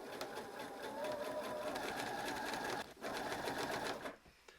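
Domestic sewing machine running steadily while stitching bunting fabric, a fast continuous mechanical chatter with one brief pause before resuming and stopping near the end; faint and without talk.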